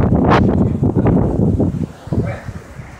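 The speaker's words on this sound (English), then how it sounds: "It sure is windy." Wind on a cruise ship buffets the microphone in a steady, heavy rumble throughout, loud and close, easing briefly near the end.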